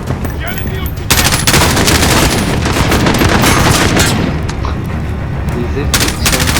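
Sustained gunfire rages in the Call of Duty Modern Warfare campaign, dense bursts of shots and impacts crowding nearly the whole stretch, loud and close, with a brief lull at the end.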